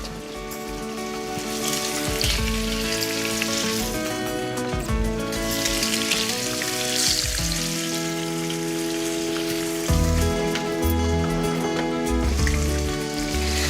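A salmon fillet fries belly side down in a pan, giving a steady, soft sizzle like light rain under louder tonal background music.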